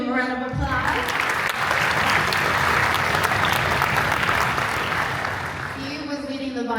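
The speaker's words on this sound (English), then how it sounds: "You can give him a round of applause." An audience at a summer strings camp concert gives a dense, steady round of applause lasting several seconds, with brief musical tones at the start and end.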